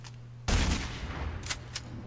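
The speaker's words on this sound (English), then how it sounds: "This is the most powerful sniper rifle in the game." A single powerful sniper rifle shot from the shooter Black Squad cracks loud and close, followed by a ringing tail and two fainter clicks or echoes.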